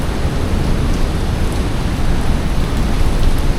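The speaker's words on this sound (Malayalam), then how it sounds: "ആ വെള്ളച്ചാട്ടം" A waterfall inside Gupteshwor Mahadev Cave in Pokhara, Nepal, produces a loud, steady, broadband rush of falling water that fills the whole stretch without a break.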